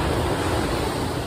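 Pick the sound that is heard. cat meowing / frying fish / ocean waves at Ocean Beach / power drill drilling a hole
ocean waves at Ocean Beach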